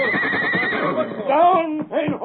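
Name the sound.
horse neighing in a radio drama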